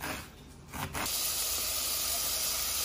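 Chopped onions sizzling as they cook in a hot oven for a veal chop recipe, a steady loud hiss holding evenly after a brief rustle at the start, with no talking.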